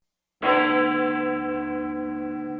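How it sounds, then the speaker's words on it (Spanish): A synthesized bell tone built from summed sine waves strikes once with a sudden onset, then rings on with a steady, slowly fading sustain and no other sound. "Hemos creado el sonido de una campana de forma artificial sumando sonidos más simples."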